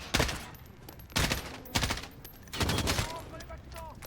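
Bursts of machine gun fire from the video game Modern Warfare 2019, loud rapid volleys in several separate bursts with short gaps between them, plus brief voice fragments in between.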